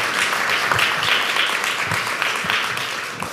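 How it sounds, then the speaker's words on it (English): An audience at a community summit claps steadily, a dense wash of applause at moderate loudness that holds evenly and then tapers slightly at the end. "please clap"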